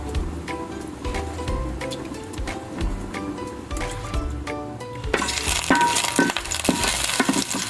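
Garlic and onion frying in a pan, a steady close sizzle with clinks and stirring scrapes throughout that grows louder and brighter in the last few seconds.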